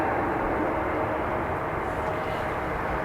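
An A330 freighter arriving at Dublin Airport, its jet engines a continuous broad roar heard steadily from a distance.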